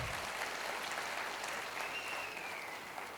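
Faint, steady clapping from an audience at a Crown Diamond celebration event in Rajasthan, a continuous wash of applause without voices.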